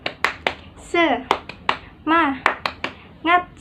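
A classroom of children beats out a rhythmic 'tepuk semangat' clapping chant, sharp unison claps alternating with their shouted chanting voices, close and lively.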